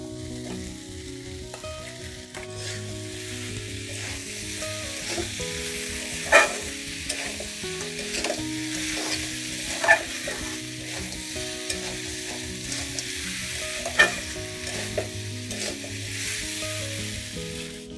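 Fried potatoes are stirred into a bubbling crab curry in a pan, giving a steady close sizzle with a few sharp utensil scrapes and knocks at intervals, and no voices.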